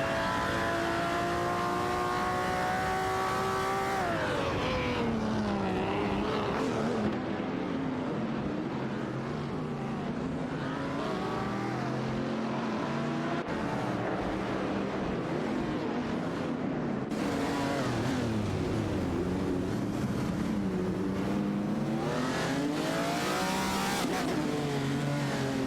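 Video game race with cars including a 1973 Holden Monaro and Ferrari 250 GTOs, their engines roaring continuously as they climb and drop through the gears, with several cars revving close together throughout.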